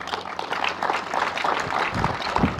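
Group of people clapping for a cadet during an SSC GD height measurement session, steady broadband applause lasting throughout with faint voices mixed in.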